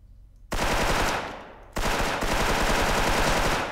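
Gunfire in the shooter game Special Force, two loud bursts of rapid automatic fire, the first starting abruptly after a quiet moment and tailing off, the second kicking in sharply and continuing, close and dense.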